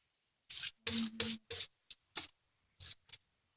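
Shortening being scraped out of a dry measuring cup, a series of short, dry scraping strokes in quick bursts with pauses between, close and fairly quiet, with no talking.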